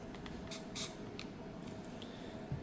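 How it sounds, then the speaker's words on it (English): Several short hissing bursts of cleaner sprayed into a Canik TP9SFX pistol, close and fairly loud, spaced irregularly over a quiet background hum. "you're going to spray underneath that"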